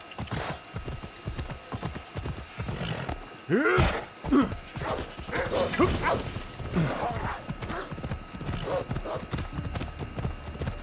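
Horse in the video game Assassin's Creed Odyssey, with rhythmic hoofbeats of a gallop running throughout and a loud neigh near the middle, set against a busy game soundscape.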